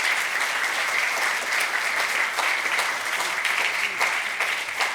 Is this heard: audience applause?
yes